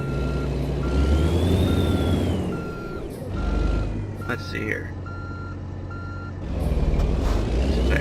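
A truck backing up to park in American Truck Simulator, with evenly spaced reversing beeps repeating over a loud low diesel rumble, a brief air-brake hiss midway, and someone speaking briefly.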